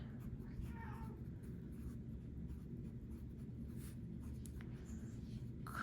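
Resin pen nib scratching across paper in quick, faint strokes, close up and soft under a low room hum, with a few brief clicks and rustles.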